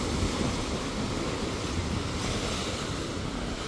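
Heavy surf churns and crashes against rocks at Bolinao, Pangasinan, a constant roaring wash of water mixed with gusty wind buffeting the microphone.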